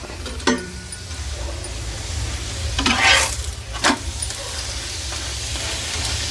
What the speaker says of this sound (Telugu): చూడండి నూనె కొద్దిగా కాలినాక చపాతీ అప్పుడు మనం నూనె వేసుకోవాలి.